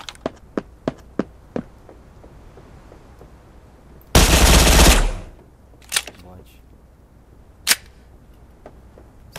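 Gunfire in the Badlanders desert map: a series of short, sharp single shots at the start, then a dense loud burst of automatic fire lasting about a second, followed by a few scattered isolated shots, some quieter and more distant.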